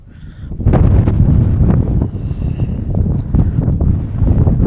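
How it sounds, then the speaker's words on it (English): Gusty wind buffets the microphone outdoors on a homestead cleared of sage, a loud low rumble that swells after the first second and keeps roaring unevenly throughout. "It said the wind was gonna pick up about this time, so it's definitely windy."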